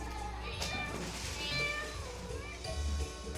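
Cats meowing in a few drawn-out, wavering calls over a steady low background hum, fairly close and clear.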